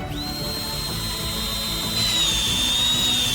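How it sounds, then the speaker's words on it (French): A power drill whines steadily at close range while drilling a hole in the side of a pipe, its high motor pitch holding for a few seconds and rising in loudness partway through. "Percez un trou sur le côté avec un tournevis."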